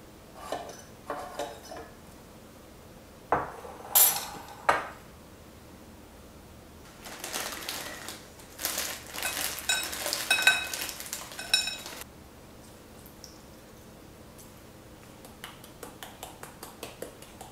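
A non-stick rice cooker pot being rinsed at a kitchen sink, with scattered clinks and knocks followed by a running burst of water and splashing, then lighter taps as it finishes.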